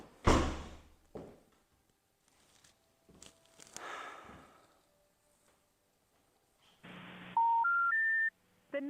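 A phone's dial tones sound near the end as a short ascending run of four beeps, preceded by a few thuds and door-like knocks, with no talking.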